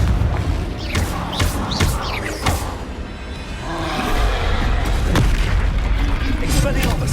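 A Confringo blasting spell explodes in Hogwarts Legacy, giving booming thuds and roaring blasts over a busy battle soundscape, with talk mixed in.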